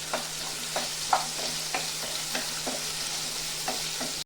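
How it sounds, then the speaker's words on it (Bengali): Potatoes frying in hot oil with a little turmeric give a steady, close sizzle, broken by soft scraping stirs about every half second. "ওই তেলের মধ্যে আমি আলুটা ভেজে নেব।"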